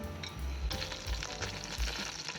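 Butter and black raisins go into a kadhai over low heat, producing a soft frying sizzle broken by a few dull bumps and stirring clatter, with no voices.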